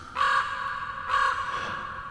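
A raven gives two loud, harsh caws about a second apart, each a short rasping call standing alone against quiet background, used as a sound effect in a reading of Poe's The Raven.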